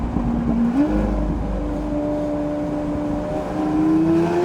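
Lamborghini fitted with an aftermarket exhaust, heard as a loud, close engine drone that rises in pitch, then holds a steady rev with a further climb near the end.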